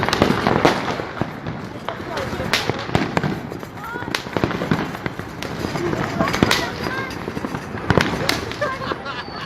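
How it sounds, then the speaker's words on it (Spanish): Christmas fireworks over Ayacucho, a dense scatter of sharp bangs and crackling pops going off continuously at varied distances, with voices talking underneath throughout. "Ya van terminando los fuegos artificiales aquí por Ayacucho."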